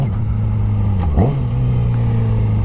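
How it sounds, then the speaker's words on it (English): A Yamaha R6 sport motorcycle engine revs steadily, then blips sharply as it downshifts, pitch dipping before settling back into a strong, close drone. "I love hearing these downshifts too."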